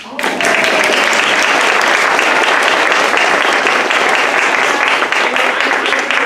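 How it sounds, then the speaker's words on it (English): An audience at a summer theater show breaks into loud applause that swells quickly and holds as a thick, steady roar of clapping, with some voices faintly underneath. "A round of applause for Tim and Sage."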